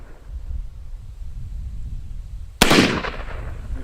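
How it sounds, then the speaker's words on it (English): A single sharp gunshot in a video game cracks out loud over a steady low wind-like background, followed by a brief decaying tail. "You're still shooting to the right."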